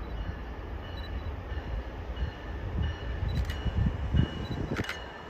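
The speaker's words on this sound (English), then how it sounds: "Train approaching. Please remain behind the yellow line." A commuter train approaches the Route 128/University Park station, a low rumble that slowly builds under wind noise, with a couple of short high-pitched squeals near the end.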